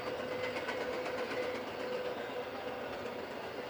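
A train rolls past a high school track meet on a Saturday morning, a steady continuous rumble with faint clickety-clack of rail cars and a sustained tonal hum, holding at moderate loudness throughout with no talk.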